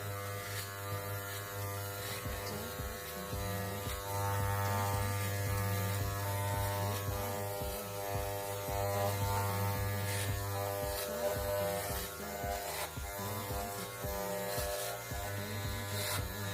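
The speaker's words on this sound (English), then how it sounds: "So you're not just sat there in silence with an annoying buzzing sound." A Wahl electric hair clipper buzzes continuously while cutting hair, a close, steady mains-pitched drone with irregular crackling snips and small pitch dips as it moves through the hair.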